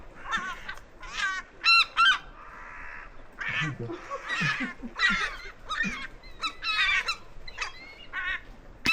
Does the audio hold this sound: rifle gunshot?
no